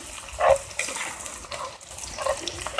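Onions sweat in a very hot pot outdoors for jambalaya, giving a faint, steady sizzle with soft stirring scrapes and a few slightly louder bursts, with no talk.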